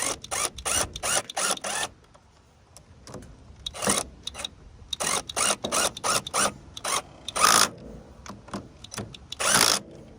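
Impact wrench on the clutch bolts of a Suzuki LTR450 ATV, firing in a run of short, sharp bursts separated by brief pauses, close and fairly loud, with no talk.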